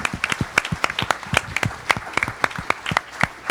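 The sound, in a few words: church congregation applause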